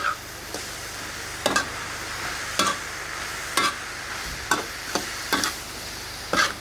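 Khan chong vegetables are stir-fried in a wok until wilted, a soft low sizzle broken by sharp spatula scrapes and clacks that land about once a second, close and loud against the quieter frying.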